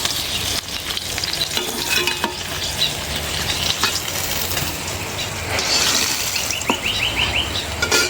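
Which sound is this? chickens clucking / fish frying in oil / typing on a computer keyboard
fish frying in oil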